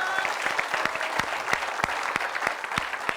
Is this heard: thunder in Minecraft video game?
no